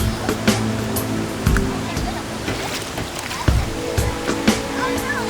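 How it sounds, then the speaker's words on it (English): A jungle river flows steadily, rushing and splashing up close, with scattered knocks and clatter over the constant water noise. "the river subsides and the water begins to clear"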